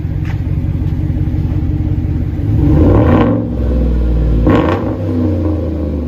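A Chevy Silverado with a 5.3L V8 and an aftermarket exhaust idles with a deep, loud rumble, then revs up twice in quick bursts before falling back to idle.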